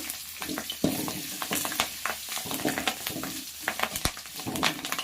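Green chillies fry in hot oil, giving a steady close sizzle and crackle with scattered spattering pops. Occasional stirring scrapes run through it for the whole stretch, and no one speaks.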